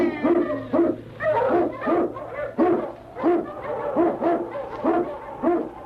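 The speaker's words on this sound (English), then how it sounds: "King, the swiftest, strongest of Eskimo lead dogs, blazes the trail through storm and snow for Sergeant Preston" An Eskimo lead sled dog barks and howls in a radio drama effect, a run of about a dozen evenly spaced, drawn-out baying calls, close and loud over a faint low hum, with no one speaking.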